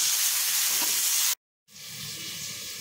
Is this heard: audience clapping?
no